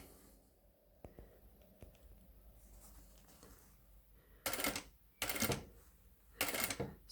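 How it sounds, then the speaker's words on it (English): A home sewing machine stitches the yoke seam of a gathered dress in three short, loud bursts of running, separated by pauses filled with faint handling and fabric rustle. "now sew all around at 1 centimeter or just a little above the gathering stitch"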